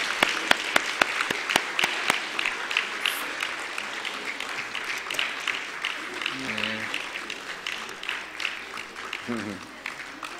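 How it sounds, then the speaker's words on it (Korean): A church congregation applauding during a Sunday service, a brisk burst of many hands clapping that settles into steady applause, with a voice briefly speaking over it. "자, 박수 한번더 치세요."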